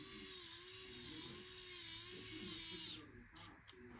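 A small electric driver whirs steadily for about three seconds while tightening screws on upgraded shocks of an Axial SCX24 Bronco RC crawler, then stops with a couple of short bursts.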